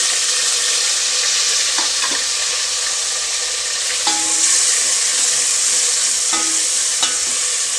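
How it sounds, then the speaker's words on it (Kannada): Tomatoes, a medium onion and curry leaves fry in a pan for bisi bele bath, giving a loud, steady, close sizzle with occasional light scrapes of a stirring spoon and no voices. "ಇವಾಗ ಇದನ್ನು ಒಂದೆರಡು ನಿಮಿಷ ಚೆನ್ನಾಗಿ ಫ್ರೈ ಆಗಬೇಕು ಮತ್ತು ಟೊಮೊಟೊ ಮತ್ತು ಈರುಳ್ಳಿ ಸ್ವಲ್ಪ ಆಗಬೇಕು"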